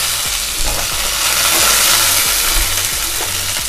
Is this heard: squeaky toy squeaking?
no